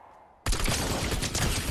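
Pistol gunfire in a video game bursts in abruptly after a brief quiet moment, then continues as a loud, close, dense stream of rapid shots that barely lets up.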